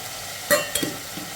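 Mixed vegetables for a curry sizzle in a pan with salt and chili powder, a short low frying hiss broken by a couple of quick scraping stirs, close and unaccompanied by voices.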